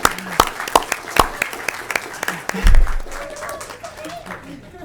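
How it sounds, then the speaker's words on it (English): Scattered, uneven clapping from an audience at a 2019 Louisiana legislative hearing on spinal muscular atrophy, with a few sharp claps standing out as someone talks over them throughout. "We ought to clap for Allori"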